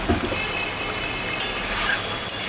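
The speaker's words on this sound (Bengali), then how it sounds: "ঝোলটা ফুটে গেছে" Spicy fish curry gravy (puti fish jhal) boils in a pot on a home stove, giving a soft, steady hiss and bubbling with a few faint clinks, fairly quiet throughout.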